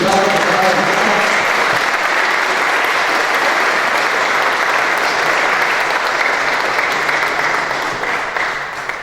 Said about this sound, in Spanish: Y pido un aplauso acá para el doctor Enrique Gómez